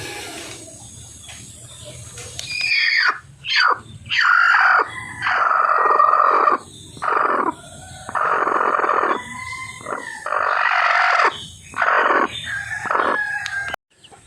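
Chickens cluck and squawk close by in a busy, overlapping chorus, with bursts of calls following one another against a steady background hum.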